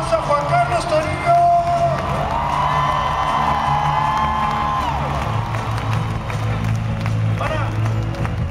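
A concert crowd at a live show in Chicago cheers and applauds a keyboardist, loud and continuous with whoops and shouts, while sustained keyboard tones and band sound carry under the noise.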